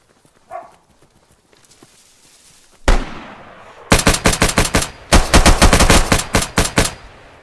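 Gunfire from the survival game DayZ: after a quiet stretch and a sudden burst, two loud rapid strings of automatic shots crack out close by, each a fast rhythmic volley.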